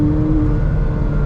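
A McLaren 570GT's engine revs from inside the cabin, a loud, steady low rumble with a constant tonal drone running through the whole short moment, no voices over it.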